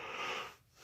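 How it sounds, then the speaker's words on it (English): A single long, breathy yawn lasts just under a second, close and fairly loud, fading out at the end with no speech. "Excuse my yawn."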